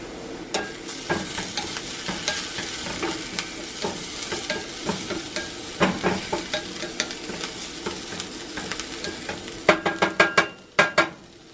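Bacon, jalapeño and cheddar hush puppies fry in bubbling oil in a cast iron pot with a constant sizzle, while utensils scrape and clink against the pot, ending in a burst of sharp knocks.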